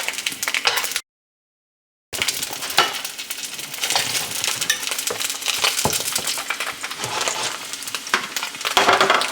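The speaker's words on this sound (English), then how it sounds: "That's why we're using the lard to fry them" Lean sausages sizzle in hot lard in a pan over medium heat, a steady crackling hiss with scattered sharp pops. A short gap of silence near the start, then constant frying noise, close and moderately loud.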